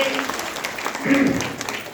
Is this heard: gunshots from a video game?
no